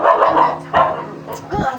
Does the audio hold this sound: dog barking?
yes